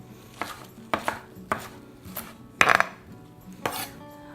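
Spinach being minced with a knife on a cutting board for a chickpea pasta salad, heard as several sharp, irregular chops with one louder cluster of strikes. The sound is close, with no talking.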